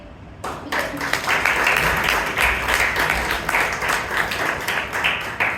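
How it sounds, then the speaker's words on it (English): A Toastmasters club audience in Bangalore breaks into applause for the general evaluator, a dense, steady wash of many hands clapping close by, starting abruptly and holding loud throughout. "Give it a huge round of applause to the general evaluator, Toastmaster Vivek"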